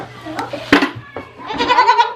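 A goat during milking lets out several loud, close bleats, a short cry followed by a longer wavering one, with faint scuffling around them.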